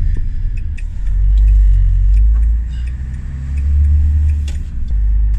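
Steady engine rumble and road noise from inside a bus on the move, heading toward a market car park, loud and continuous with swelling low drone and small rattles, no talk.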